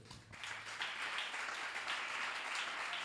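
A church congregation breaks into sustained applause, a dense, even wash of clapping that holds steady for several seconds.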